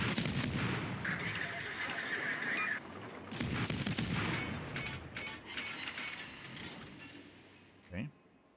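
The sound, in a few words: destroyer firing guns at a cruiser in World of Warships video game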